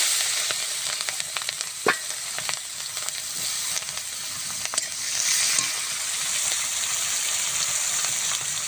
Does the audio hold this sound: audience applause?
no